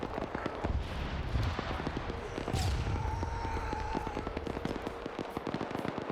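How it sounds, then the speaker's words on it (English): Video game combat with popping gunfire and a sharp grenade blast, crackling in irregular bursts at moderate distance, with a brief whistling tone and scattered shots continuing after. "Oh my god, he can throw grenades."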